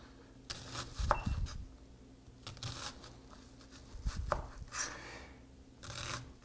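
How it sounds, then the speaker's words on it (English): Onions being chopped fairly chunky with a knife on a cutting board for chili, a few soft irregular bursts of cutting and scraping, close but quiet, with no talking. "So if you do it right, in theory, we should get a whole bunch of cut onions."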